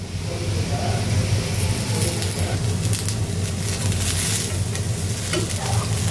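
Small potatoes frying for aloo bhaji hiss in a steady, dense sizzle while being stirred, with scraping and shuffling over a continuous loud, close frying roar and no talking.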